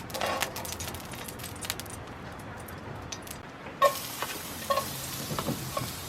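Oil frying in a pan while cooking outdoors at a beach, a soft continuous sizzle with occasional metallic clinks and taps, growing brighter partway through.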